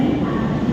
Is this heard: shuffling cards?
no